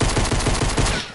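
Rapid automatic gunfire in the Fortnite video game, a loud close burst of evenly spaced shots that cuts off abruptly after about a second.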